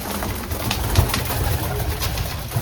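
Racing pigeons coo in an aviary, with soft, low, repeated throaty calls layered over each other close by, alongside some light fluttering and rustling.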